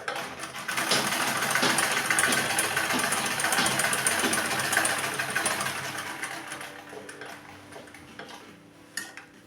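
An oiled sewing machine runs steadily, topstitching a bow-trimmed shoulder bag, with a continuous fast mechanical whir and rattle that gradually fades toward the end, punctuated by a faint clink.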